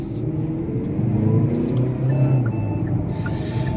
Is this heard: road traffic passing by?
yes